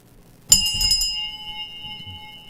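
A hand bell, an award trophy bell, is struck once in a radio broadcast studio, giving a bright ringing strike followed by a long sustained shimmering ring that slowly fades, heard close and alone.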